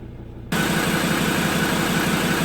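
Ford Ranger T6 PX2 engine idling steadily with the bonnet open, a close, constant low rumble and hiss that kicks in abruptly after a quieter half-second and holds an even level without talk.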